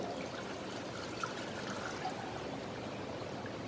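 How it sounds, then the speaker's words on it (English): Water pours steadily into a saucepan on a gas stove, a continuous soft trickling stream, quiet and close, with no talking. "Then I'm going to add some water into the saucepan."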